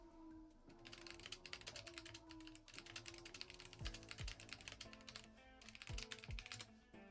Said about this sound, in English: I'm typing to him right now.